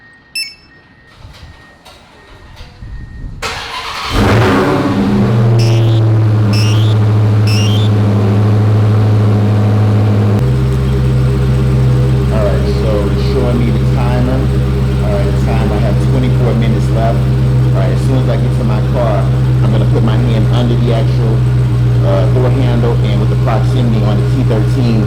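A Dodge Hellcat V8 starts remotely after a quiet lead-in with a few clicks, then settles into a loud, steady low idle rumble with a slight rise in pitch that carries to the end.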